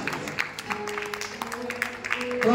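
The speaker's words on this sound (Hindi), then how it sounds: "जोरदार तालियां एक बार दीजिए।" Audience applause at a Ramlila function celebrating the drama club's completed performances, a steady patter of many hands clapping with a faint tonal hum and crowd murmur beneath, growing slightly louder toward the end.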